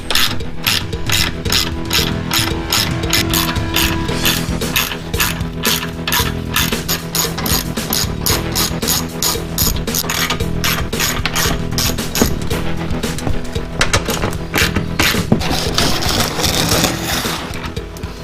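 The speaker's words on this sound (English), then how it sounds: "Nice ratchet. Good quality tool." A ToolPro ratchet with a 1/4 inch socket clicks rapidly as it removes a car's under tray, producing a fast, loud, close run of sharp pawl clicks in steady bursts with no talk.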